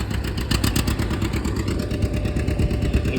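A pulling tractor's engine roars loud and close at a tractor pull as the run starts, a steady, rough mechanical drone with rapid pulsing clatter.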